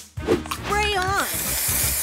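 A spray booster hisses in a video game, a sharp airy spray rising right after a short announcer-style voice line and then continuing as a steady hiss.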